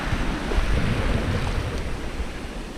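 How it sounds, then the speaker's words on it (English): Small ripply sea waves wash onto the beach at Pevensey Bay at night, a steady low rushing surf with wind noise and no voices. "water looks pretty good to be fair. Some nice ripply waves coming in."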